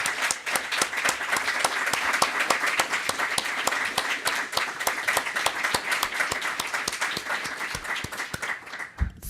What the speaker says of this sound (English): a round of applause for their contributions